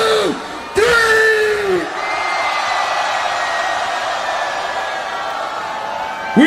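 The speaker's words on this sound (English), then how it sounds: "On the count of three, put your hands in the air and scream." A huge festival crowd at Ultra Music Festival Taiwan screams and whoops in a loud sustained roar after a DJ's countdown, swelling and holding under the stage sound with bright tonal music lines running over it.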